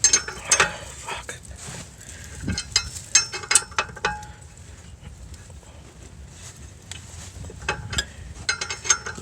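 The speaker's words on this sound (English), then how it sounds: "I'm just using a 3/8 socket and ratchet" A 3/8 socket and ratchet work a caliper bracket bolt on the rear brakes of a 2011 Nissan Murano, giving quick metallic clicking bursts separated by quieter pauses, close by and heard alone.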